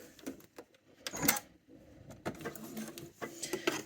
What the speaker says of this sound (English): And then I'm going to be sewing along, taking my pins out as I go.